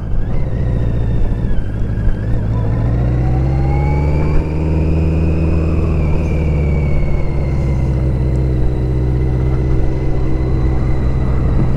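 A BMW K100 motorcycle pulls hard through town in third gear, its engine note climbing and holding strong at speed, loud and close with wind rush throughout.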